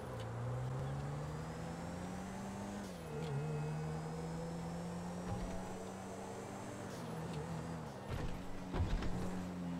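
A very long car driving and turning through a narrow street in the video game GTA V, a steady engine drone that shifts in pitch with a few bumps and knocks, continuous and moderately loud.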